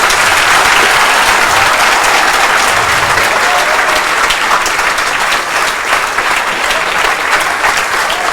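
Loud, dense applause from an audience at an RAS exam preparation event honoring a third-rank holder, sustained clapping filling the whole stretch with only slight rises and dips.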